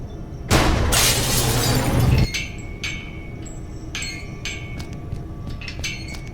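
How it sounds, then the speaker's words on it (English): Glass pane above a laboratory door in the Gibbous adventure game shatters in one loud, sharp crash lasting under two seconds, followed by scattered tinkling shards falling and clinking. "I got rid of the glass above the door to the lab."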